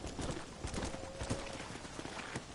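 Horse hooves clip-clop steadily in the Red Dead video game, a quiet, even trot near a stable with soft background ambience and no talk.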